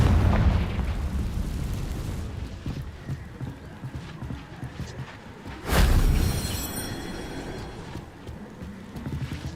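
A Confringo fire spell from Hogwarts Legacy explodes with a loud, sudden broadband burst midway, rising out of a steady rumbling game background and trailing off with a ringing, crackling tail.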